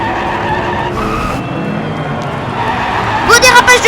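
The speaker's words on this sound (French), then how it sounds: "Beau dérapage de Earlo, toujours en tête" A diecast toy race car skids along a miniature racing track, a short scraping slide followed by a sharper squeal near the end, with a race commentator talking over it the whole time.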